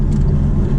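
A Maserati supercar's engine drones steadily inside the cabin while cruising on a freeway, a low continuous rumble lasting under a second.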